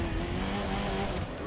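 A car engine in The Crew 2 racing video game runs steadily at a high pitch for a brief moment, loud and close, with a faint tire squeal and no talking.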